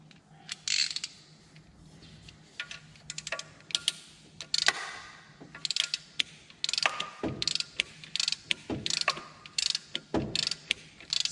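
A ratchet wrench tightening the alternator bolts on a 1993 Toyota Corolla: rapid close metallic clicking in repeated bursts with brief pauses, and a few sharper knocks of metal on metal.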